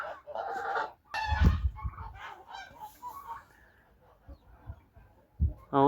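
Young hens in a farmyard cluck and squawk near the nest where one is laying, in short loud bursts with pauses between.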